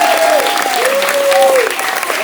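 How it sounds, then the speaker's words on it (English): An audience at a carnivore-diet meetup in Columbus, Ohio applauds a speaker named Jen, steady clapping that runs throughout, with a sustained tonal whine or feedback-like pitch gliding over the clapping. "let's give a big round of applause to Jen"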